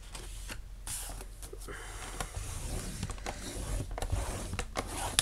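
A paper trimmer works on a paper sheet with clicking, ratcheting mechanical sounds and short scraping strokes, close and fairly quiet with no speech.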